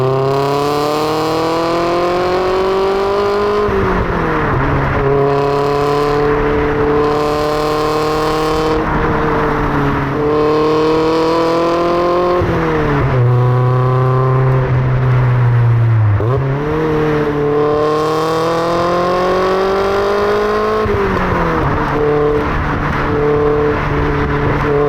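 A Lotus Elise 111S is driven hard along a twisting B road, its engine loud and close as it revs up through the gears, drops back and climbs again over and over; no speech.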